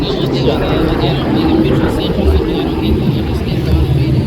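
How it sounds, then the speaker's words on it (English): A trainer aircraft flies past at the Wings over Houston airshow, its engine a loud, steady broadband roar close by, with crowd murmur and a commentator's voice mixed beneath the noise. "Now this is the aircraft that just went by us."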